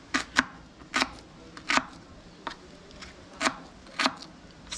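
A knife chops long chilies for sinigang on a cutting board in about nine crisp, irregularly spaced strikes, close and clear over a quiet background.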